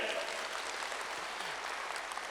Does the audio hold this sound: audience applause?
yes